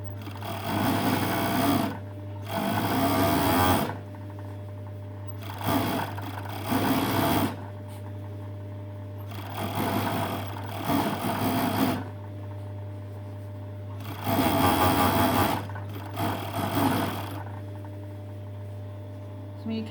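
A sewing machine hemming a cotton poncho runs in several bursts of steady mechanical whirring, stopping briefly between runs while a low constant hum sits underneath.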